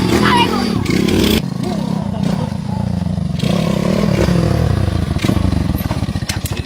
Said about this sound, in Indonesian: Motor butut di Bali